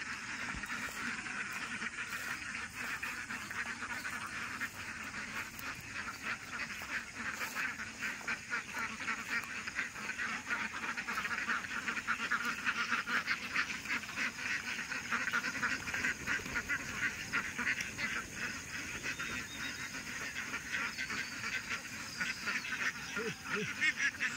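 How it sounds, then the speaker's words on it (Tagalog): A large flock of ducks at a duck farm in the morning, a dense continuous chorus of quacking and honking from many birds at once, moderately loud and unbroken throughout. "kukunan natin ng camera yung mga itik"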